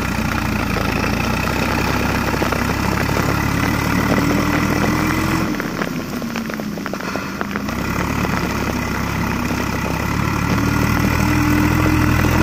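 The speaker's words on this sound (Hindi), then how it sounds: "बाकी ट्रैक्टर आ गया है भाई।" A Swaraj 744 XT tractor with a trolley idles close by, a loud, steady diesel rumble with a low throb. It dips briefly midway and then settles back to an even idle.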